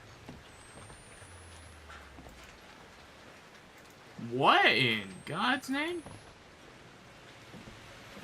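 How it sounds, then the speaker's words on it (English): Blood raining down in the horror video game Outlast 2, a steady, soft patter of rain across the whole clip, with someone speaking in a startled voice midway. "this is just legit blood that's raining down"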